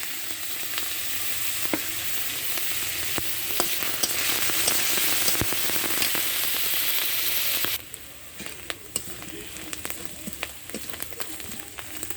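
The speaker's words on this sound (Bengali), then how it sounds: "এভাবে হালকা আঁচে ভেজে নিতে হবে" Onion and garlic fry on low heat in a pan for a tengra fish curry, giving a steady, dense, crackling sizzle that runs for about eight seconds before dropping to a quieter, sparser crackle.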